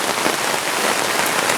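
Steady, dense rain pours down on an outdoor Malayalam film shoot location, a constant close hiss of drops striking surfaces with no pauses and no voices.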